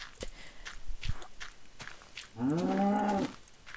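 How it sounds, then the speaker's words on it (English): A cow in the Minecraft video game lets out a single loud moo after a few soft footstep clicks, with the call standing out alone against a quiet background. "Okay, hey, cow, can you come help me?"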